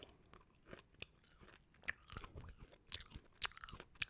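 Chewing Charms Blow Pop Minis candy, close and quiet mouth sounds with irregular crunches and sharp bites scattered over a few seconds, no talk.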